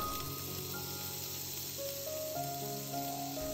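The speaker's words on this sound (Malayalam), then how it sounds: "ഇനി നമ്മൾ മാരിനേറ്റ് ചെയ്ത് വെച്ചിരിക്കുന്ന ചിക്കൻ വിങ്സൊക്കെ അതിൽ വെച്ച് കൊടുക്കാം." Marinated chicken wings frying in hot oil in a pan give a steady, close sizzle that runs the whole time, with faint tonal hums underneath.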